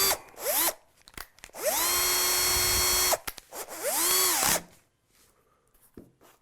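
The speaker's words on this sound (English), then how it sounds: "we're going to do the old trick with the countersink just to give that screw a start and not strip any wood out" A power drill bores a countersink into the wood body of a guitar kit to start a strap button screw, running in several sharp bursts that rise in pitch, cut off and then start again, loud and close with no talk.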